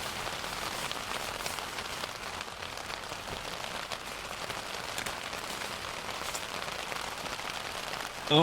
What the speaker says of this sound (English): So it is properly raining now